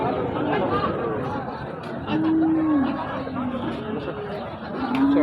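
Cattle moo in long, low calls amid the chatter of a crowd at a cattle market selling Sahiwal, Gir and Brahman bull calves, with voices murmuring throughout.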